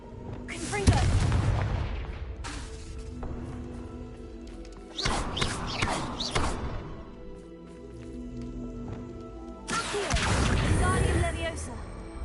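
Confringo blasting spell explosions in a Hogwarts video game, three loud booming blasts spaced a few seconds apart, each with a crashing tail over low rumble.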